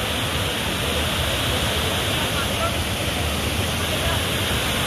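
Dassam Falls waterfall roaring as a dense, steady wash of rushing water, loud and unbroken throughout, with no gaps or other sounds standing out.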